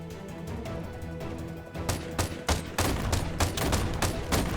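Shotgun fire in the video game No Plan B: a burst of sharp, loud blasts with a few spaced shots, then a rapid run of heavy reports over a constant hum of in-game background sound.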